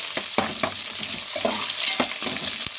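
Vegetables frying for veg biryani are stirred in a pan, giving a steady sizzle broken by a handful of sharp scraping knocks from the spoon; no one speaks.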